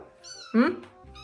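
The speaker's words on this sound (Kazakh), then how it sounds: "бізге айтпай сонда мына мысықты әкеп алып" A cat gives a short, close meow indoors that rises and falls in about a second, with faint quieter sounds around it.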